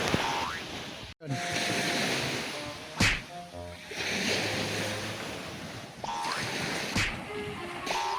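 Ocean waves wash onto the seashore in steady, loud surges with breezy noise, a sharp crack-like burst and a brief dropout near the start, and no clear speech.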